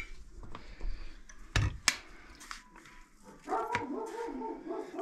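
Dogs bark a few times at a distance in a night-time home setting, short sharp yelps against a background of household noise and room murmur, with no clear talk over them.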